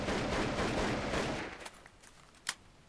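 Rapid automatic fire from an AK rifle in a Minecraft gun mod: a dense burst of shots for over a second, then a few isolated, fainter shots trailing off.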